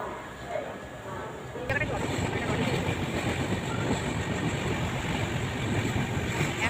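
The 15962 Dibrugarh–Howrah Kamrup Express crosses the New Farakka bridge at night. Heard from inside the carriage, a steady rolling rumble jumps louder as the train gets onto the bridge, then a dense, continuous rattle and clatter.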